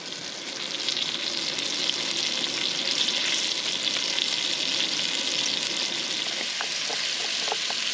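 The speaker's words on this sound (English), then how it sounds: "you sear it to seal in the juice" Meat searing in a hot pan at a high-mountain campsite in northern Arizona, a steady close sizzle and crackle of fat that runs unbroken throughout with no talking.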